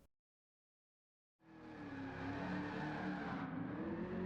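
A 1967 Chevy Nova drifting at Suzuka in Gran Turismo 7: after a second of silence the engine roars in loud and sustained, revving steadily with a rough, gritty edge.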